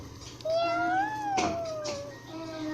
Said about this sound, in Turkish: Ben görmüyorum ama bir miyavlama sesi var.